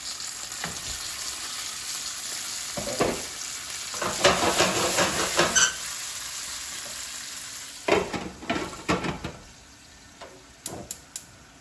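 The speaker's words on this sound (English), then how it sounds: "now you want to cook it so that the milk and the butter form together with the caramel and become the caramel sauce" Caramel sauce of milk and butter cooks in a pan on the stove, giving a continuous soft sizzle and bubbling broken by bursts of louder scraping and stirring.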